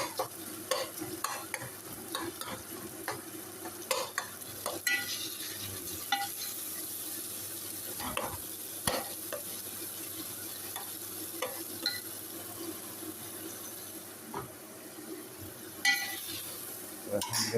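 A piece of washed fish frying in an oily pan, with a continuous sizzle and frequent stirring scrapes and light utensil clinks, close up, no talking.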